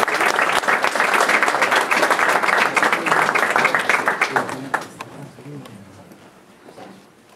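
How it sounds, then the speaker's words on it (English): Audience applause for poet Ásta Fanney Sigurðardóttir at European Poetry Night 2017, dense clapping that holds for several seconds, then thins and fades out as a voice begins speaking. "So a round of applause, please, for Ásta Fanney Sigurðardóttir."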